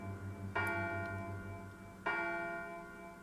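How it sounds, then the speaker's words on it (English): A clock chimes twice in the Silent Hill video game, each stroke a sharp, ringing bell tone that hangs and slowly decays, heard alone over a faint low hum. "the clock begins to chime"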